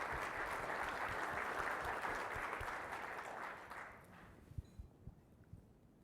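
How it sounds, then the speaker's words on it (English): A crowd claps loudly and steadily for several seconds, then the applause thins out to a few scattered claps and fades. "Please give all of the sponsors a huge round of applause."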